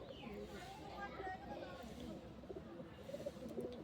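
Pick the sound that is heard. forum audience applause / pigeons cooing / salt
pigeons cooing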